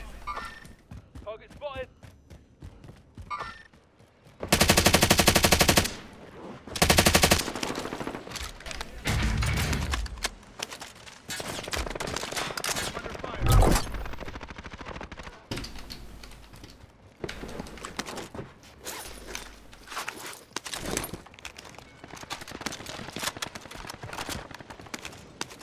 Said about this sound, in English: Getting shot now from another direction.